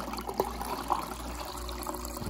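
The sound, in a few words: water from an LG refrigerator dispenser filling a glass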